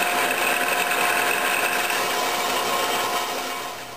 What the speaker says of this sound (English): Now to my belt sander.